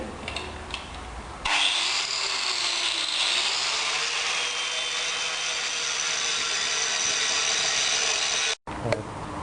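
A power tool grinds rust and oxides off a steel pipe to prepare it for welding. A loud, steady abrasive rasp runs for about seven seconds, then cuts off abruptly.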